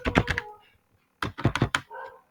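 Computer keyboard typed on during a JavaScript coding tutorial, two quick close bursts of clattering keystrokes separated by a short pause.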